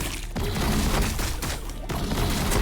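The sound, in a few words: gunfire in a Warhammer video game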